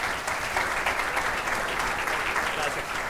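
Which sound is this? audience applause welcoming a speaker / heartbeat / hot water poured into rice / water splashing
audience applause welcoming a speaker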